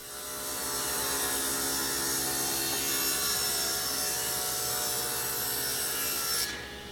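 A saw rips hardwood boards into 2.5-inch strips, giving a loud, steady, continuous cutting roar that holds for nearly the whole stretch and then stops abruptly near the end.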